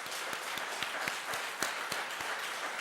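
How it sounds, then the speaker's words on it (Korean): A church congregation applauds in honour of soldiers and parents, a steady, dense wash of many hands clapping close by, with a few sharper individual claps standing out at irregular intervals. "그분들께 박수로 영광 올려드리겠습니다"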